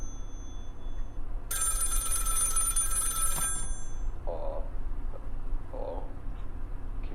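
Telephone bell ringing in the FNAF fangame Forgotten at Fredbear's, a loud electronic ring lasting about two seconds over a steady low hum, followed by a couple of short softer chirps.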